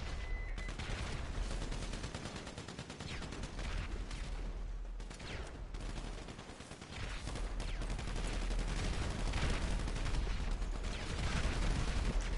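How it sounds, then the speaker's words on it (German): Explosions and bursts of gunfire from a GTA 5 Online match on PS4, a dense, continuous barrage of shots and blasts at moderate level with a brief dip in the middle. "hier explodiert alles"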